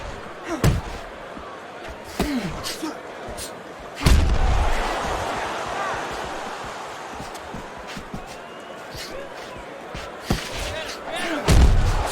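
Body punches thud and slam in the Fight Night Champion boxing video game, landing as several heavy, spaced impacts over a steady arena crowd roar.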